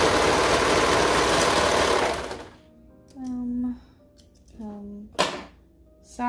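A serger overlocker runs in a loud continuous burst while sewing the shoulder seam of a crop top, then stops, leaving a few short tonal hums and clicks.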